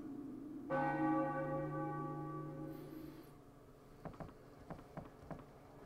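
A church bell tolls once in the Final Fantasy IX video game, a loud bright strike whose ringing tone holds and slowly fades over a few seconds, followed by faint scattered taps.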